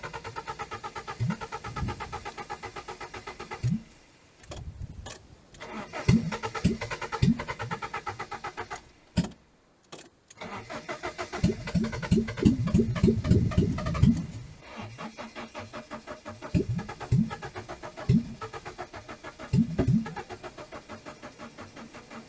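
A compact car's engine cranks on a weak battery, with repeated bursts of rhythmic starter churning separated by short silences, and none of the attempts catch; close and fairly quiet.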